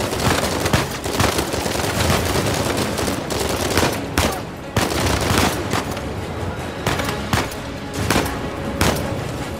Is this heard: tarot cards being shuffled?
no